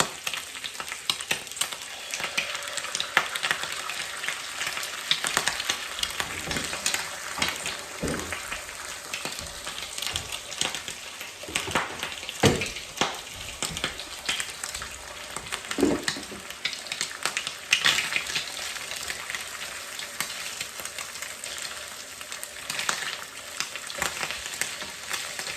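Bacon and an egg fry in a pan with a steady, close crackling sizzle that holds throughout, broken now and then by brief louder pops and scrapes.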